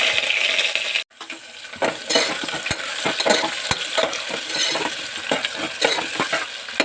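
Onions go into a hot pan of oil with mustard seeds and chillies for tomato pulao, raising a loud, continuous sizzle broken by repeated scraping stirs and metallic clinks of a spoon against the pan.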